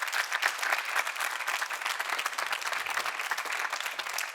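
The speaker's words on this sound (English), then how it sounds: "give them a big round of applause for Robert" An event audience at the IMPACT cube 2022 gives steady applause, a bright, crisp patter of many hands clapping at moderate volume without pause for the whole stretch.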